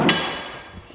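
A single sharp hammer blow strikes a garage wall, loud and close, its crack fading quickly into a short decaying rumble.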